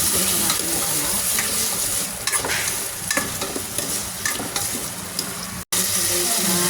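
Garlic, onion and tomatoes sizzle in a pan, a steady close frying hiss with scraping stirring clicks from a utensil, briefly cutting out near the end.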